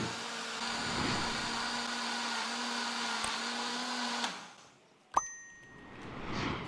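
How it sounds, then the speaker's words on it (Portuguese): A blender mixing eggs and other ingredients whirs at a steady pitch for about four seconds, then the motor cuts off, followed by a sharp clink and faint clatter. "Aí é só colocar para liquidificar esses ingredientes até ficar bem homogêneo."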